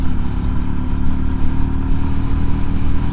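A Royal Enfield Goan 350 motorcycle engine pulls hard for an overtake, a loud, steady single-cylinder drone with continuous low rumble and wind roar heard close up from the rider's position.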